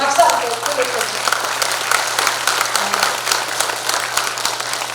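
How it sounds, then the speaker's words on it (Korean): Crowd applause at a party delegates' convention, sustained even clapping from a large audience throughout, with a voice briefly audible near the start. "우리 구청장님 당선되시는 박수 함께 부탁드립니다."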